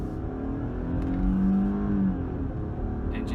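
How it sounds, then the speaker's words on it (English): A Mercedes-Benz E320 engine revs up and hums steadily from inside the cabin, rising in pitch then easing off as the automatic gearbox upshifts, with no talking. "Engine sounds nice"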